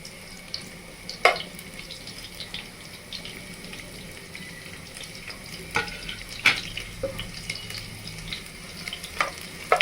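Onions fry in a pan for a village-style chicken fry, with a steady low sizzle under repeated scraping stirs and sharp utensil clicks scattered throughout; no one speaks.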